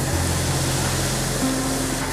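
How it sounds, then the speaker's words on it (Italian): A pot of water is at a full rolling boil on the stove for pasta, giving a dense continuous bubbling rush with a low hum beneath, steady and close with no voices. "Ho messo sul fuoco l'acqua per la pasta, sta già bollendo, aggiungo il sale"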